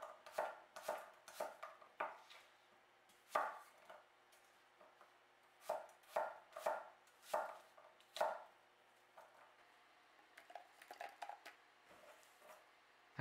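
Granny Smith apple being chopped into chunks with a knife on a board, a series of crisp, fairly close thuds in irregular bursts with short pauses, no talking.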